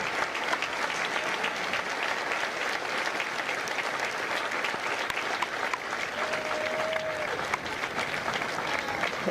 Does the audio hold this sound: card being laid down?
no